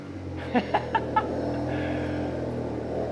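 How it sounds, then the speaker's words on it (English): Four quick rhythmic cranking pulses from a Volkswagen Jetta MK7 starter, then the engine settles into a steady idle hum. "Probably shouldn't have started the car all the way"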